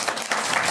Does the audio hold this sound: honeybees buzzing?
no